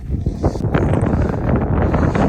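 Strong wind buffets the microphone in a continuous low roar, loud and close, with no voices.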